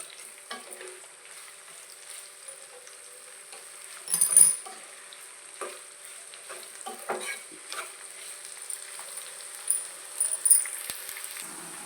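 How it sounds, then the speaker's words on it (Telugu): Onions and dried red chilies fry in a pan, a low sizzle beneath repeated clinking stirs of a utensil against the metal, with a louder burst of scraping partway through, close and intermittent. "ఉల్లిపాయలు కూడా బాగా ఫ్రై అవ్వాలి."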